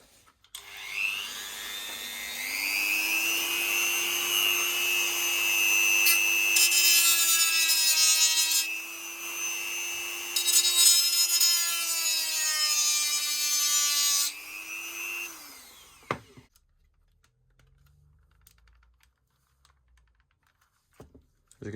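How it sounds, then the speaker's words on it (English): A Dremel rotary tool spins up and cuts a slit into a plastic Audi air vent, a loud high whine rising at startup, holding steady with gritty grinding as it bites, then winding down into near silence. "Seeing I've got a Dremel here,"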